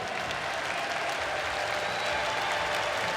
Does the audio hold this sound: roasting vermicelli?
no